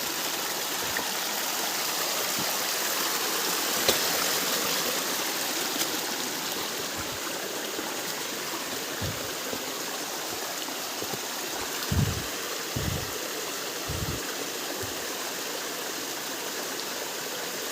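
A forest stream flows with a steady broad rush of water, close and even throughout, broken by a few soft low thumps and knocks.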